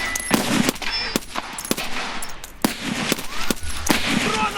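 Gunfire in the Escape From Tarkov shooter. Sharp, loud, single and double shots crack at uneven intervals over a noisy backdrop, some with a metallic ring, and they sound close by.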